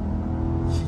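A Chevrolet C8 Corvette Z51 with the performance package launches hard using launch control, a loud, close, heavy engine roar and rumble filling a brief burst of sound.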